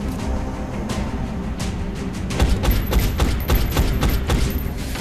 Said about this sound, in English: I'm taking pot shots at it.